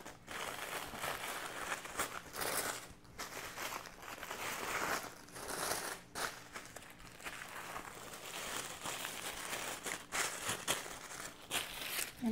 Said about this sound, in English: I'm going to wrap this one since I have the paper here.